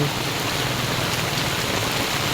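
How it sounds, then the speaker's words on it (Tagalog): Heavy rain pours steadily onto a partly flooded road during a typhoon, a dense, even hiss with no wind and no voices, close and loud throughout. "Medyo nagkatubig na ang kalsada. So malakas ang ulan."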